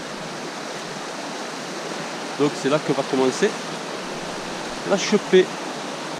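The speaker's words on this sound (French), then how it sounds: "là j'arrive sur la rivière en question" A rushing river at a trout-fishing stream, heard as steady broadband water noise throughout, with someone speaking briefly in the foreground over it.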